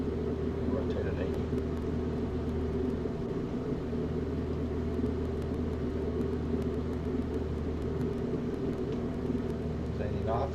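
Steady, loud engine roar of a simulated aircraft taking off in Microsoft Flight Simulator X, a constant low drone with a hiss layered above it, unbroken for the whole stretch.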